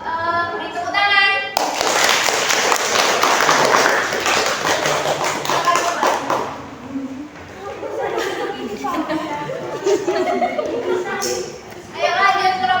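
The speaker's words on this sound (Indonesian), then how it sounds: "Beri tepuk tangan." Classroom applause for a student group breaks out in a burst of brisk clapping mixed with children's chatter and thumps, then fades into overlapping kids' voices and a teacher talking, with a brief clap flurry at the end.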